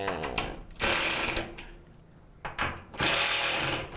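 A ratchet tightening the drum vanes inside an opened Maytag MDG5500AWW dryer gives a fast metallic clicking and grinding in three loud bursts separated by a quieter rumbling gap, heard up close.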